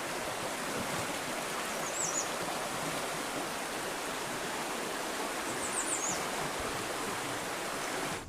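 Creek water flows under a bridge in Yellow River State Forest, Iowa, a constant close-up rush of water, with two brief bird chirps rising above it.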